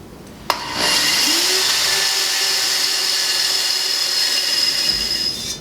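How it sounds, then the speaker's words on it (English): A power drill bores holes in metal for a junk-parts waste oil stove, a sharp click followed by a steady high-pitched whine that holds for several seconds before cutting off. "I got all my holes drilled"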